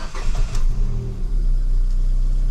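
A Ford Fiesta engine with a misfire, just after a spark plug change, runs close by as it fires up: a loud, rough low rumble with revving swells and an uneven beat throughout.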